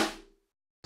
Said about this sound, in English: First, a snare drum.